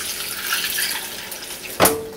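Water poured from a tap into a bowl of tempura batter mix with ice cubes, a brief splash near the end over a soft background hiss.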